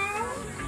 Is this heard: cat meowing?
yes